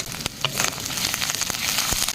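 Garlic and ginger paste frying in hot oil for a Bengali egg-and-spinach dish: a continuous close sizzle scattered with sharp pops and crackles, fairly loud and with no voices.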